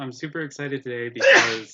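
A loud, close sneeze bursts out right after a stretch of speech, a single breathy explosive burst ending the clip, heard during a live drawing stream with people talking.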